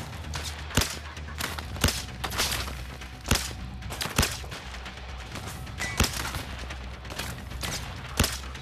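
Revolver shots fired in the VR shooter Zero Caliber VR, sharp single reports spaced irregularly about a second apart, around eight in a row, loud and close over a steady low background.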